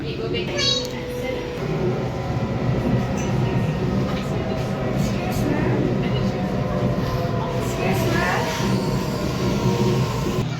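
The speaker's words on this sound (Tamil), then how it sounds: "இப்போ நாங்கள் 7 ஹில் ஸ்டேஷனில் வந்து நிற்கிறோம்." Train rumbling at Seven Hills railway station in Sydney, a steady loud rolling drone with faint clicks and squeals, continuous throughout with speech over it.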